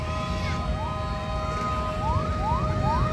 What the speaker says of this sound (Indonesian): Ada 3 damkar lagi datang.